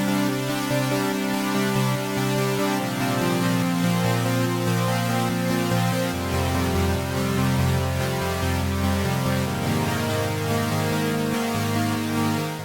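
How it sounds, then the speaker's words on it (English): Sustained synthesized harmony chords from Arturia Pigments, a dense held pad with bright upper partials, shifting chord at about the midpoint and again later, steady and loud throughout without any voices. "engine 2 is our kind of harmony chord thing that sounds like this on itself"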